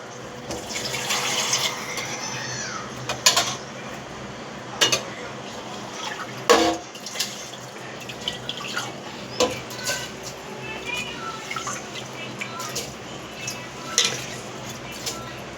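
Tomato rice served from a pot, with a spoon scraping and clinking against the metal in repeated sharp knocks amid soft rustling and occasional water sounds, close by.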